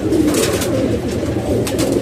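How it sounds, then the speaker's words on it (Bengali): Pigeons cooing up close, a continuous low throaty burbling that rolls on throughout. "এই দেখেন এই দুটা কবুতর ভালো কবুতর"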